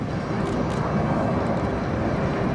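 A Boeing C-17 Globemaster III jet transport flying a display at an air show, a steady broad roar of engines sustained without break, loud and fairly close.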